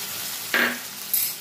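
Paneer and potato curry fries in a pan over a low gas flame. A steady soft sizzle is broken by two sharper bursts as the mixture is stirred and scraped, close and clear with no talking.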